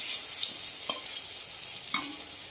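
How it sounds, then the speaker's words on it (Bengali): Pumpkin frying in a pan with a soft, continuous sizzle, broken by a couple of brief spatula scrapes. "এই দেখো কুমড়ো ভাজা করছি"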